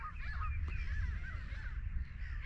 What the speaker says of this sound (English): so many hundreds or thousands of birds.